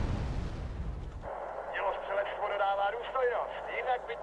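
Artillery fire in the war game Wargame Red Dragon: a heavy rumbling blast fills the opening second, then dies away as voices talk over a quieter background.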